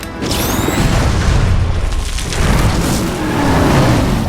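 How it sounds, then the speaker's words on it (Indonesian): An explosion from small rockets fired into a tunnel in an action film rumbles as a loud, sustained booming roar with debris noise throughout, dense and close. "Dia menembakkan roket kecil ke dalam terowongan dan langsung menyingkirkan dan membuat seluruh anak buah Greg meninggoy seketika sob"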